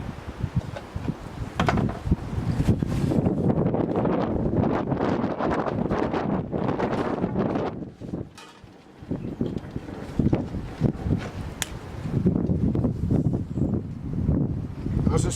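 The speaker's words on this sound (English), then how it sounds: "it's a little bit windy" Strong wind gusts buffet the microphone outdoors, a loud, continuous roar broken by a short lull. Faint rustling sits beneath it.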